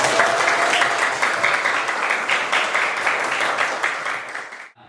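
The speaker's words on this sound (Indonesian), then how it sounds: "Nah, kan tepuk tangan buat Juna" A classroom of students claps in unison with a fairly quick, even rhythm, loud and near, before the applause cuts off abruptly.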